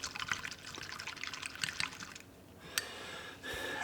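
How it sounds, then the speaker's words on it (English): Dawn dish soap and distilled water being mixed and agitated into suds, giving a soft close-up wet swishing and trickling that fades out partway and then returns. "Go ahead and mix that up, suds it up"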